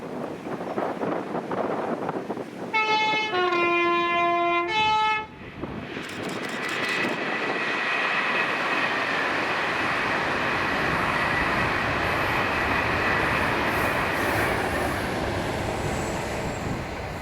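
A London Euston to Glasgow Central passenger train sounds two loud horn blasts on approach, then roars past with a sustained rushing rumble as wind buffets the microphone.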